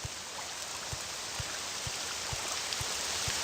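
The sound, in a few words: rain in video game Elder Scrolls III Morrowind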